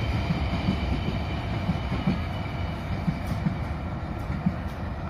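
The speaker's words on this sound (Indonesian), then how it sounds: "kereta api S12 Raja Basa ini masuk jalur sepur belok di stasiun Keramasan" A passenger train hauled by two locomotives rolls into Keramasan station steadily with a deep rumble and faint clacking wheels, heard from nearby with no talking.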